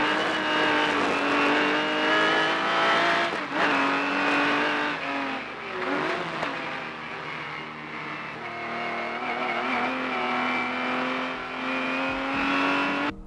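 An Aston Martin DBR1 race car roars at full throttle during a race, its engine note climbing and dropping through gear changes, with loud sustained revving and brief pass-by shifts for over thirteen seconds, no talking.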